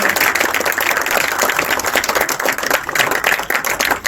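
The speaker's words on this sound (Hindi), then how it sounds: "जितना स्पार्क आएगा आपकी तालियों से आएगा" An audience claps steadily at a senior secondary school prize-distribution ceremony after a race winner is announced, the applause dense and continuous throughout at full loudness, with no talk over it.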